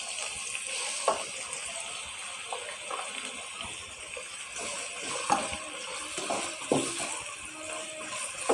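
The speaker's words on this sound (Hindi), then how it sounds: "प्याज और लहसुन को हम थोड़ा सा फ्राई कर लेंगे।" Onion and garlic fry in oil with a steady, fairly quiet sizzling hiss, broken by a few soft clinks and scrapes of stirring.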